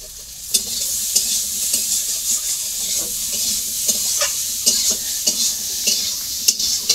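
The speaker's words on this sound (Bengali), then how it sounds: "আলুটা বেড়ে ভাজা হয়ে গেছে" Potatoes fry and sizzle in a pan in a village kitchen, with a steady close hiss broken by repeated scraping and clinking stirs of a utensil against the pan, and no voices.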